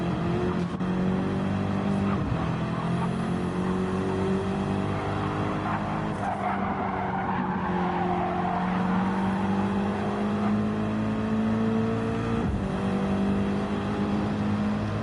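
Race cars in a racing video game at Barcelona roar continuously with shifting engine pitches, tire squeal and cars passing close by, with no voices heard.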